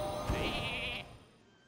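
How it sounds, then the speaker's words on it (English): A sheep bleats once in the Hearthstone card game, a short wavering baa heard clearly and close, then fading out, with no voices. "Sheep, my sheep."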